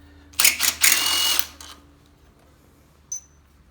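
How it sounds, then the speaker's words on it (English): Loosening engine head bolts with a wrench during a head gasket replacement: a short burst of metallic clicking and scraping, close and moderately loud, then a quiet pause broken by a single faint click near the end. "Let's start pulling them head bolts off."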